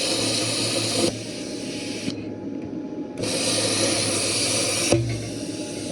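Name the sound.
welder's plasma cutter cutting through a steel wrench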